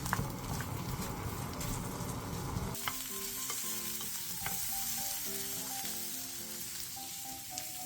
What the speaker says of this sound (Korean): 팬에 기름을 두른 뒤 햄을 넣고 중약불에서 살짝 노릇노릇하게 볶아주세요